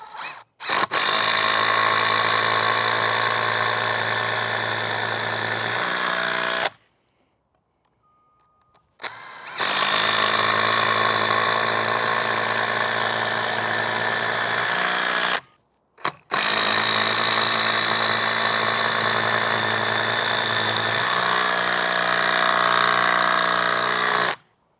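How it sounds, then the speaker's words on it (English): A cordless power drill with a FlexVolt battery drills into wood in three long, loud bursts of steady whine, each several seconds, separated by short pauses of silence. "It'll keep drilling that thing as long as we want to go."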